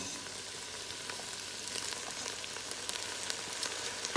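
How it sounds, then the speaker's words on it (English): Chow mein noodles fry in a pot with stir fry vegetables, giving a quiet, steady sizzle with faint crackles that grow slightly busier toward the end. "I'm gonna add my chow mein noodles now to the pot"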